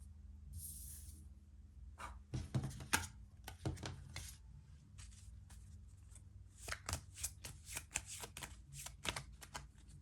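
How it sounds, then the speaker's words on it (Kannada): An oracle deck is shuffled by hand in quick, crisp bursts of riffling and flicking cards, followed by lighter card handling, all close and quiet with no talk. "ನೆಕ್ಸ್ಟ್ ಈ ಒರಾಕಲ್ ಡೆಕ್ಕಲ್ಲಿ 3 ಕಾರ್ಡ್ಸ್ ತೆಗಿತಾ ಇದ್ದೀನಿ."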